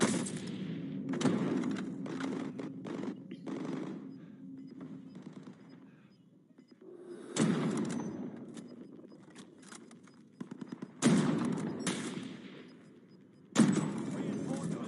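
Gunfire in the video game DayZ, a raid: scattered bursts and single shots, some distant and some sharper, under low background noise and occasional game voice announcements.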